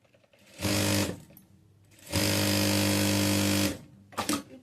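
Electric sewing machine stitching the lining joint of a frock-style nighty, with two loud steady whirring runs and a short burst at the end, separated by quiet pauses.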